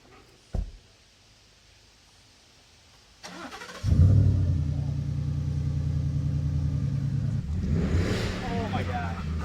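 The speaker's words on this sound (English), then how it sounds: "I'll bring the truck around" A new built Ford F-150 pickup starts up and drives in close, its engine rumbling steadily and loudly after a short thump, with a faint hiss rising near the end.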